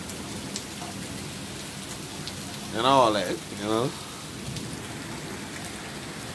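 Steady pouring rain hisses outdoors at night with faint thunder underneath, while someone briefly speaks over it midway.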